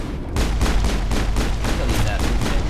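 Rapid pistol shots fired in the sci-fi shooter Mass Effect, about a dozen sharp cracks in a quick steady rhythm over a low rumbling game backdrop, loud and close.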